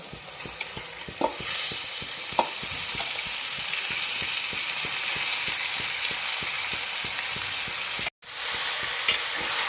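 Onions sizzle in a pan while a spatula stirs in a quick, regular scraping rhythm, close and steady, with a brief dropout near the end, while cooking octopus.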